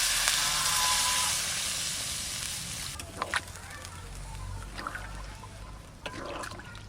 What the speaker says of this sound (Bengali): মাংস কষানো হয়ে গেছে জল দিয়ে দিচ্ছি